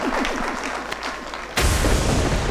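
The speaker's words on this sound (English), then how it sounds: "you can give the Member of Parliament for Central Manchester a bigger clap than that" Audience applauding a Member of Parliament for Central Manchester at a business event: dense, steady clapping that swells abruptly louder partway through and continues to the end.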